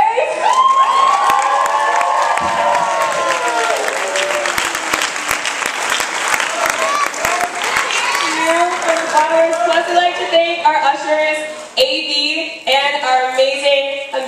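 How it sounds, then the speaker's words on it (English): At a student fashion and culture show, a large audience bursts into loud applause mixed with cheering, whoops and high shouts. Sustained shouted tones rise over the steady clapping toward the end. "we also like to give a big round of applause to the board directors."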